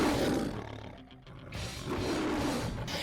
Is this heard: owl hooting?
no